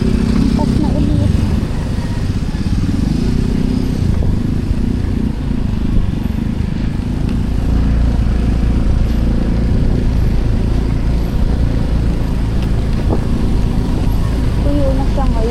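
Motorcycle carrying a rider and passenger runs steadily on a slippery-tired outing near Tanay, Rizal, producing a continuous low engine rumble with wind noise and road texture throughout and no clear changes in pace.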